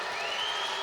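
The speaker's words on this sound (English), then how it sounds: "the crowd starts to get revved up" Crowd in a basketball arena at an NBL Canada game between the Halifax Hurricanes and Windsor Express, cheering and applauding in a steady, dense wash of noise for a brief moment.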